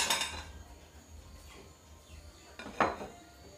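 A metal spoon scrapes hot mango sweet in a cooking pan, producing clinking, grating strokes: a louder one at the start, softer scrapes in the middle and a sharp clink near the end.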